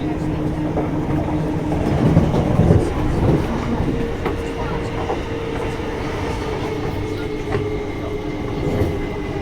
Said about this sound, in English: empty Elizabeth line train